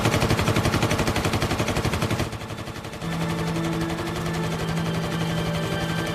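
Rapid, sustained machine-gun fire rattles loudly for a couple of seconds, then gives way to a steady mechanical hum with tonal whine.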